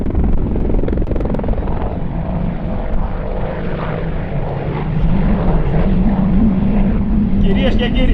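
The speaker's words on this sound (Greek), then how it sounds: "το Apache έρχεται μπροστά σας σε υψηλή αιώρηση" An Apache AH-64D attack helicopter hovers high at an air show, its loud, continuous rotor and engine thrum filling the air while an announcer talks over it.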